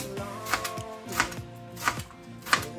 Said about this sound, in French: Et puis je viens découper en tronçons, je dirais d'un demi-centimètre,